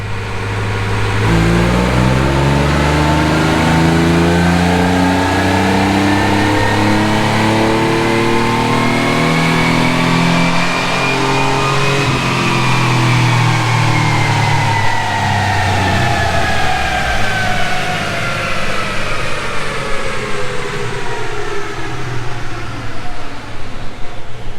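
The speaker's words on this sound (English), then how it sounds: "so it's revving on out" A high school sport truck's engine revs steadily on a dyno, loud and continuous, its pitch climbing through a long pull then falling back as it winds down, with a low mechanical drone underneath.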